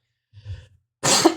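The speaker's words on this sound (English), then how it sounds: "Sorry. Cough." A single sharp cough close to the mic, preceded by a soft breathy sound, with no talking.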